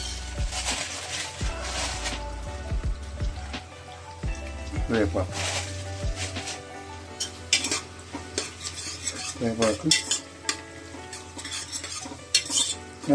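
Curry leaves are fried and stirred with ginger paste in a pan for mint rice, producing a crackling sizzle under frequent loud scraping and clanking of a spoon against metal.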